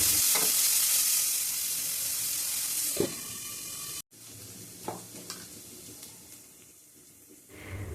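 Small chopped potatoes fry with salt in a pan, sizzling steadily while a spoon stirs and scrapes. A sudden cut breaks the sizzle, which comes back quieter with occasional stirring clicks.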